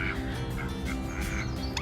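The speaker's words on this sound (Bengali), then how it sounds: "হাঁস, একদম বড় হাঁস," Large geese honk in a morning outdoor setting: a close, brief burst of several overlapping nasal calls with no voices.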